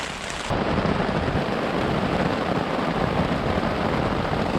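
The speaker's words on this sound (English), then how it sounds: "I don't even know if you can hear me over the rain." Heavy rain pours onto a hammock during a wilderness thunderstorm in the Quetico, a loud, dense, unbroken roar that surges in abruptly after a half-second and stays constant and close.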